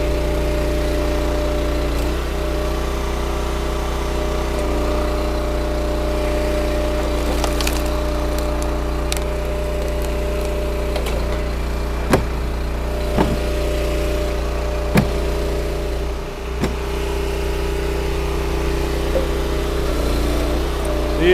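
An engine-powered ram log splitter works through black birch firewood, its motor droning steadily throughout while sharp cracks and splintering of the wood break out at intervals.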